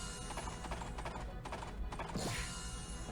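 Racehorse hooves clip-clop rapidly in a game horse race, a steady galloping patter over busy background sound, with a whinny-like sweep near the end.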